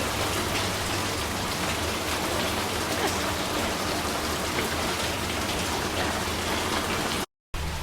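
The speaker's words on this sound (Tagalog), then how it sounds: "Lakas ng ulan." Heavy rain pours down in a dense, loud, continuous roar of drops drumming on surfaces nearby, broken only by a brief cut near the end.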